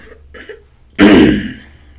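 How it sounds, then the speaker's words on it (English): After a moment of near silence, someone clears their throat once, loudly and close up, in a single rough, gravelly burst. "Let me clear my throat."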